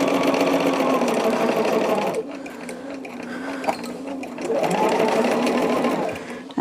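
A sewing machine stitches quilt rows with a quarter-inch seam, running over pins. It hums in fast, steady bursts, slows in the middle, then speeds up again. It is close and clear, with a little talk nearby.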